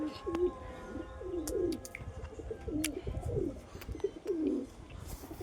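Pigeons at a home loft at dusk, in cloudy, rainy weather, give a run of soft, throaty coos close by, repeated in uneven bursts over a low rumble of background noise.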